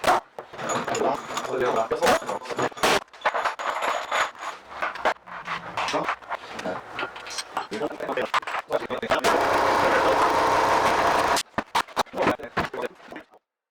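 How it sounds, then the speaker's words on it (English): Pneumatic air gun spinning off the main case bolt nuts on a Porsche 911T engine during a rebuild, a sustained loud burst of whirring and rattling lasting a couple of seconds among shorter impacts and clanks, with someone talking throughout. "Now the main case bolts, you don't really need an air gun for this, but it's quite a bit quicker."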